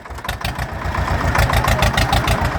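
A Swaraj tractor engine idles close by with a loud, fast, steady chugging pulse that holds throughout.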